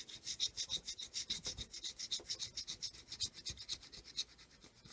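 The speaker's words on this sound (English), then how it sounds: "So, let's get scratching." A $25 Vermont lottery scratch ticket is scratched in quick, rhythmic rasping strokes close up, a steady series of quiet scraping pulses with no talking.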